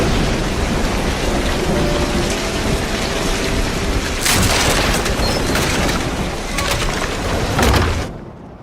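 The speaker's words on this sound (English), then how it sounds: "The thunder startled me." A heavy rainstorm hisses steadily, and midway a rolling burst of thunder swells and crackles before the roar cuts off abruptly at the end, with no talking.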